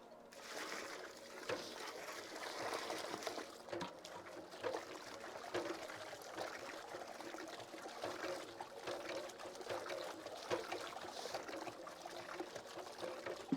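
Cow dung and water are stirred together in a biogas tank, making a soft, continuous sloshing and trickling with intermittent splashes, fairly faint and close.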